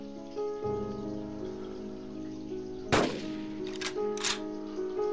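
A single sharp gunshot fired while hunting dinosaurs in Carnivores Dinosaur Hunt, a loud close crack breaking over a steady droning game soundscape, followed by two shorter sharp clicks.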